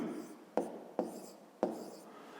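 Pen writing numbers on paper while working a fifth-grade maths exercise, soft scratching strokes broken by three sharp taps of the pen, close by.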